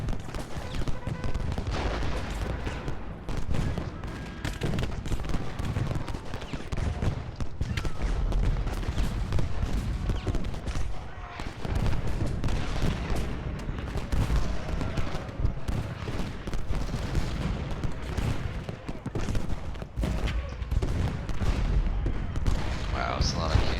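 Continuous rumbling cannon fire and booming blasts from a Gettysburg battle game, heavy volleys layered with crackling shots and clattering hooves, relentless throughout.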